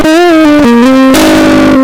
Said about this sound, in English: And heavy distortion.